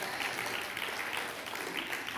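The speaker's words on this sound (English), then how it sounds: "you can clap for that." Steady applause from a church congregation during a Sunday sermon, a dense even patter of many hands held at moderate volume for the whole stretch, with no voices over it.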